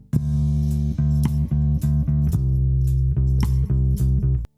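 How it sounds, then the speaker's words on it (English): Drums and bass play together in a recorded third take with no time alignment, heard as a steady groove of punchy drum hits over sustained bass notes, close and clear, without voices. "Drums and bass, third take, no time alignment."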